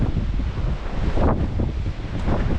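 Strong gusts buffet the microphone on a windswept outdoor walk, a continuous loud roar with surging rushes throughout and no voices.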